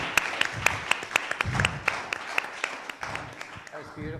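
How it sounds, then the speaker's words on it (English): Scattered, fairly crisp handclaps from a church congregation at an Easter Sunday service, arriving in an uneven rhythm, with low voices murmuring underneath. "how about some applause?"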